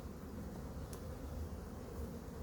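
Honey bees hum steadily around an open hive during an inspection, a continuous faint drone with no talk over it.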